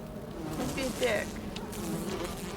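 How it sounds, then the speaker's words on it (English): Bees buzzing in the survival video game Enshrouded, a steady insect drone that rises briefly near the middle, heard up close with faint game ambience and no speech. "Guys, I don't want to fight your bees."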